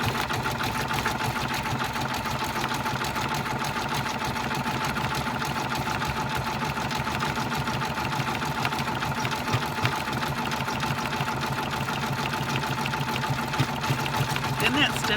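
A Brother Persona PRS embroidery machine stitches a hat floated in a 4x4 hoop without a hat attachment, its needle running in a fast, steady, close mechanical chatter that stays constant throughout.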